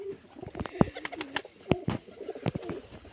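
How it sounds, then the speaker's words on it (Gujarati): A pigeon coos in soft, low, repeated calls, broken by a few sharp close clicks and flutters, with no talking over it. "સમજાવો મિત્રો કબૂતર ઉડતું હોય તો કેવું લાગે તમને દેખાડી દઉં."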